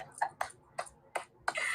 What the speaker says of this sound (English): I had to give a church clap on that